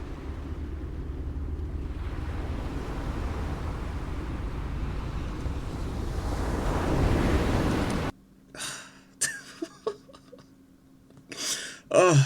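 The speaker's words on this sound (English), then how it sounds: "The sound of the waves come in." Ocean waves wash in a steady, loud roar for about eight seconds in a performance piece, then cut abruptly to quieter, sparse sounds with voices.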